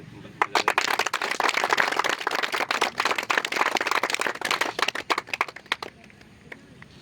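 Audience at a farewell ceremony for three young soldiers at a training academy in Lohardaga claps for their teacher, a dense burst of applause that carries on for several seconds and then thins into scattered claps.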